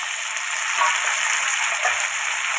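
Cumin, a bay leaf, ginger, dried red chillies, cumin powder and tomato crackle in hot oil for a moong and chana dal, a loud, close, even sizzle and hiss throughout with no voices.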